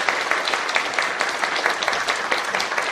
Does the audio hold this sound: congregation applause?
yes